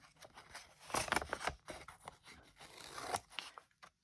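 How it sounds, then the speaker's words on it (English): Paper edges being cut with a craft knife for a small junk journal made from scraps, a close series of quiet scratchy slicing strokes with brief pauses. "What I'm going to do is cut just down these edges."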